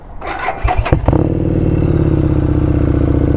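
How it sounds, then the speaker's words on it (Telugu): A Harley Davidson Street 750 motorcycle engine fires up after a couple of brief cranking bursts, then settles into a loud, steady, throbbing exhaust idle close by. "ఎక్కే ముందర ఒకసారి ఎగ్జాస్ట్ నోట్ కూడా వినేసేయండి."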